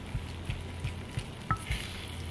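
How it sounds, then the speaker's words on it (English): Baked feta cheese is mashed in a baking dish, producing soft, evenly spaced squishing thumps, about seven in a steady rhythm, close by over a low background hiss. "Do have to mash up the feta cheese."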